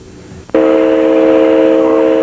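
Train horn at a railroad crossing blares in suddenly after a brief quiet moment, a loud sustained multi-tone blast holding steady and close.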